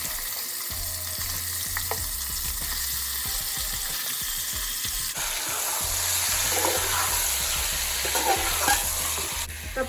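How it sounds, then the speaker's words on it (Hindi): Chicken pieces fry in a pan for an aloo chicken karela dish, with a steady close sizzle and repeated stirring scrapes throughout. The sizzle grows a bit brighter partway through, and no one speaks. "अब मैं चिकन को फ्राई करूँगी।"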